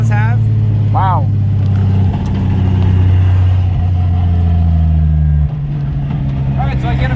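A Toyota JZX100 drift car with a reported 800 horsepower runs on a Utah track, its engine a loud, steady low drone that shifts pitch now and then, with voices heard briefly over it.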